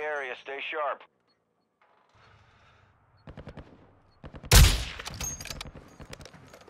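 Automatic gunfire rattles out in several sharp, rapid bursts during a Call of Duty DMZ match, loud and close in the second half, after a brief voice at the start.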